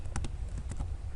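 Keys clatter on a computer keyboard as a command is typed: a brief burst of several quick, close clicks over a low background hum.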